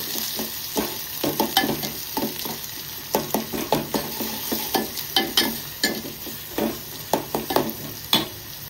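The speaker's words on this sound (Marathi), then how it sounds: "कांदा परतून घेऊया।" Chopped onion and curry leaves sautéing in a pan for kanda pohe. A constant sizzle sits under repeated sharp scrapes and taps of a spatula stirring against the metal, close and irregular.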